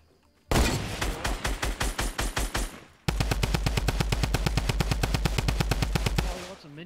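A new SMG in Fortnite Battle Royale fires loud, close full-auto bursts: a stuttering string of shots, then a longer, unbroken rapid volley that cuts off abruptly.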